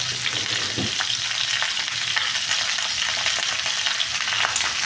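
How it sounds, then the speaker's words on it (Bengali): Potato and eggplant curry frying in a pan, a loud, continuous sizzle and crackle with occasional scrapes of stirring running throughout. "ভালো করে এটাকে নাড়ি চাড়িয়ে নেবো"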